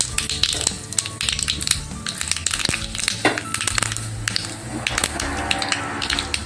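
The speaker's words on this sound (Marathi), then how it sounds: "मोहरी टाकणार आहे आणि ती छान अशी तडतडून द्यायची आपल्याला" Mustard seeds and urad dal crackle and sizzle in hot oil over a low flame, tempering for Marathi-style curd rice. The popping is dense and continuous, with close, sharp spatters throughout.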